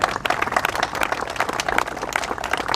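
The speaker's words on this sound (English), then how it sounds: "but give them all a round of applause." A round of applause from an audience at a local public gathering, steady dense clapping filling the whole stretch at moderate loudness with no pause.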